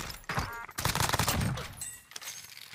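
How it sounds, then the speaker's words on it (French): Rapid bursts of submachine gun fire from an MP5 in the Call of Duty Cold War video game crackle through a short stretch of game audio, loud and dense. "On est sur la MP5 du Cold War."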